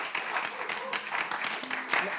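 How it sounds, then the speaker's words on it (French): Brief burst of audience applause welcoming a guest, moderately loud clapping from a crowd with a voice and some tonal sounds cutting through. "Sous vos ovations"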